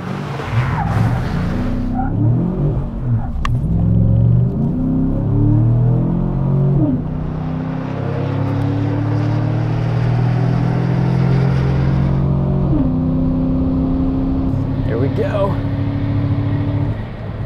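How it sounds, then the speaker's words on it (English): A tuned, lifted Chevrolet Silverado pickup on a drag strip, its engine loud and close, revving in a rising sweep, then a long sustained roar with gear changes, a tire chirp near the start, and someone talking over it. "Guys, getting ready to make our first pass here, kind of load up."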